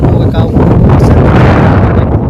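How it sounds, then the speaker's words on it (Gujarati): Strong wind buffets the microphone, a loud continuous roar of low rumbling gusts that drowns out everything else. "મસ્ત મજાનો પવન આવેલો"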